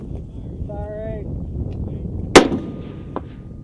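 A shoulder-fired MAAWS recoilless rifle fires once on an army firing range, a single loud, sharp blast followed by a brief echo, with voices heard just before.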